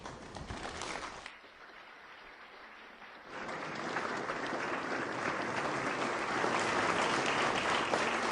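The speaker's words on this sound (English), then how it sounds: "the rest of this is just applause" An audience claps steadily, a dense wash of hand claps that dips briefly and then swells louder and fuller, continuing without a break to the end.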